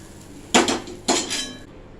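Two sharp metal clanks of a utensil striking a pot ring out close by as hot oil is poured into flour for spicy ajwain sev and stirred, each clank followed by a brief rattle, with no talk.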